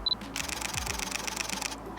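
Fujifilm X-S10 camera firing a continuous shutter burst, a fast, even run of crisp mechanical clicks lasting about a second and a half, heard up close in a quiet room.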